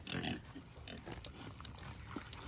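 Pigs about three months old oink and grunt on a farm, several short snorts scattered close by at low level with no talking.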